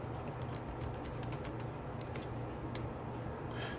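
Computer keyboard being typed on to enter a table name in database software, with rapid, irregular keystroke clicks close by and fairly soft over a steady low hum.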